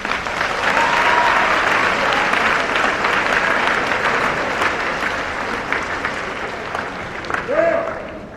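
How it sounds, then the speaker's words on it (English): A school assembly audience applauds at a Day of Caring event, a sustained, fairly loud round of clapping across the hall that tapers slightly toward the end, with faint voices mixed in. "Could we all please give them a round of applause?"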